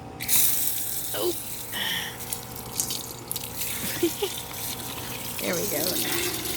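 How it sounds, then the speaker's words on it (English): Tap water running into a bowl for a pack of Cane Corso dogs, a steady close splashing stream broken by clinks and drips, with people talking over it. "Let me get some water in there for them."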